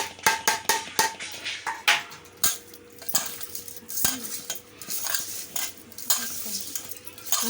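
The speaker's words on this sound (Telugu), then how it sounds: "ఉప్పు పసుపు వేసి కలుపుతుంది రొయ్యలు" Prawns being stirred with salt and turmeric, a metal spoon scraping and knocking against the pot in irregular clinks and taps, close up, with a faint sizzle beneath.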